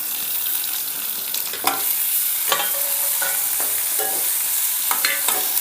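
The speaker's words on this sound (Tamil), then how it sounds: "வெங்காயம் கொஞ்சம் நேரம் வதங்கட்டும்." Onions and curry leaves fry in a pan, a steady close sizzle with occasional sharp clatters of a spoon stirring, no voices.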